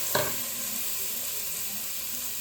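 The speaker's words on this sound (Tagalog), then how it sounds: "Pag mainit na po yung kaldero natin, ilagay natin yung pork para magmantika." Pork dropped into a hot pot, a brief splatter at the start followed by a steady, close, continuous sizzle of frying with no talk.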